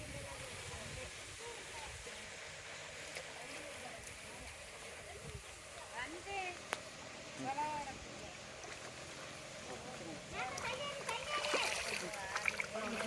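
Water splashes and sloshes in a flooded rice paddy as farmers transplant seedlings, with irregular splashes building toward the end over steady outdoor background noise, while people talk nearby.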